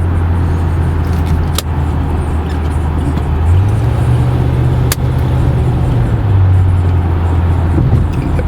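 An old V8 Cadillac Eldorado Touring Coupe cruises through traffic, its engine a loud, steady low rumble heard from inside the cabin, rising slightly in pitch midway as it speeds up, with a couple of brief clicks and no talking.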